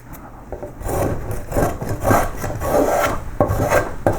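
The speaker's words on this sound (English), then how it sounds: "Or we can go straight to a spokeshave like this." A spokeshave shaves wood while a koi carp's body is carved, giving repeated rasping strokes in a loose rhythm, close and clear with short pauses between passes.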